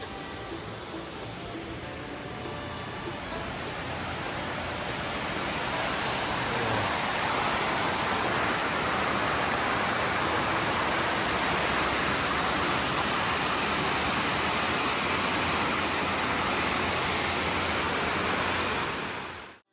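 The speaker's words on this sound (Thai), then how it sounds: "น้ำตกบุญญาบาลครับสวยงาม ตกข้างทาง" Bunyaban waterfall tumbling beside a road on a cycling and camping trip near Khao Kho Ma: a steady, broad rushing roar that swells slightly and stays constant and close for nearly twenty seconds.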